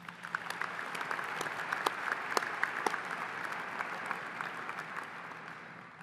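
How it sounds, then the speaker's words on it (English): At a Towson University winter commencement ceremony, a large audience applauds steadily throughout, with the dense clapping heard from a distance across the hall. "One last round of applause"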